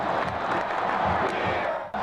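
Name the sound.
stadium crowd roaring and chanting at a Florida State football game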